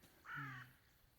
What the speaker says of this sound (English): And the crow behind us thought it was hilarious.